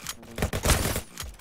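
Rapid, close bursts of gunfire from a shooting video game crackle densely through a brief moment of play, loud and continuous with short gaps.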